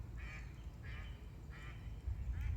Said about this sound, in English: Probably hear the ducks and the geese over there on the river.